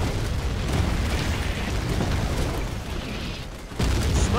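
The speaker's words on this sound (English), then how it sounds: "Target acquired. Commencing barrage." In Command & Conquer: Generals Zero Hour, continuous deep rumbling booms from a heavy artillery barrage, dense and relentless, with a brief lull before the blasts surge back loud.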